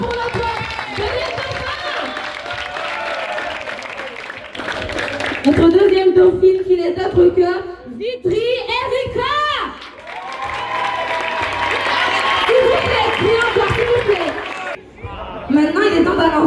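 A crowd applauds and cheers the runners-up at a school ambassador election in a French boarding school, with loud bursts of clapping and whoops rising under and between an announcer's amplified French speech.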